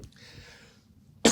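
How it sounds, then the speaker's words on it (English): A person coughs once after eating, a sharp, close, loud bark that comes at the end after a short quiet stretch. "Excuse me, I cough every time after I eat."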